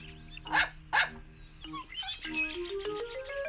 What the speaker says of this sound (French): se mit à aboyer